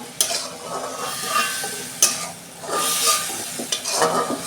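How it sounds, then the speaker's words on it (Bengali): Shrimp frying in hot oil in a pan, a close, steady sizzle broken by sharp scrapes and clatters of stirring every second or two, with no talking. "চিংড়ি মাছটা ভাজা হয়ে গেছে আমি বেশি লাল করে ভাজবো না"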